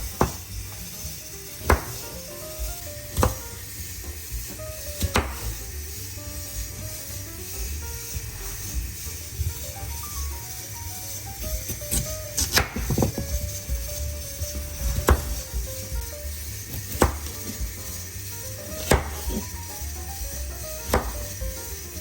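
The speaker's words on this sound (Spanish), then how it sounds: "Voy a proceder a picar las 2 zanahorias y esto lo haremos en tiras" A knife chops peeled carrots into strips on a cutting board, with sharp, irregular thuds spaced a second or two apart over steady background noise and a faint tonal hum.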